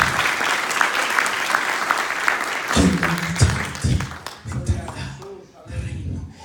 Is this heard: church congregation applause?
yes